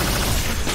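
Iron Man fires a proton cannon blast in a Marvel video game, a thick, continuous roaring rumble that stays loud and unbroken throughout.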